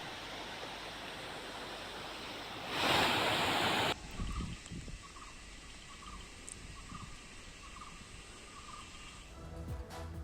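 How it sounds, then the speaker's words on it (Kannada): Water released from the Rakasakoppa dam rushes into the Markandeya river as a steady broadband roar, with a brief louder surge before settling into a continuous, moderately distant flow. "ಡ್ಯಾಂನಿಂದ ಮಾರ್ಕಂಡೆಯ ನದಿಗೆ ನೀರನ್ನು ಬಿಡುಗಡೆ ಮಾಡಲಾಗಿದೆ"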